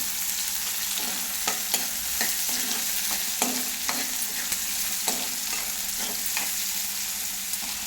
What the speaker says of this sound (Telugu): ఇది కొంచెం వేగాలి. వేగేంత వరకు లో ఫ్లేమ్లో పెట్టుకొని వెయిట్ చేసుకోవాలి.